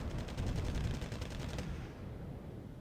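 Far-off artillery pieces fire in Wargame: Red Dragon as a rapid string of dull thuds for about a second and a half, then give way to a quiet rumble with no talking.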